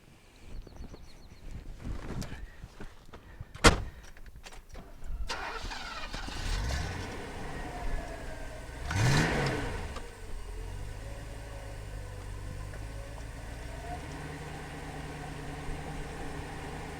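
A 1980s Mercedes 500 SEC widebody's fuel-injected V8 cranks and fires with a sharp bang, then idles and revs once with a rising surge before settling into a quieter, steady idle.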